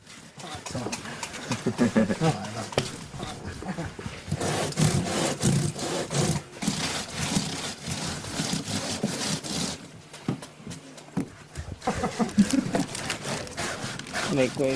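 A hard cassava root is scraped by hand, giving repeated rough rasping strokes in an uneven rhythm, close and fairly loud, with people talking over parts of it.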